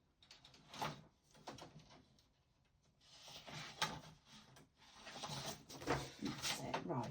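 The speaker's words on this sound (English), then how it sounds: "Just excuse the printer a minute." A home printer runs with mechanical clattering, whirring and sliding bursts that rise and fall over several seconds, fairly close and moderately loud, with some talk mixed in.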